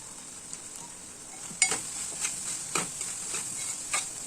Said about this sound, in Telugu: కారం కూడా కొద్దిసేపు గోలనివ్వాలి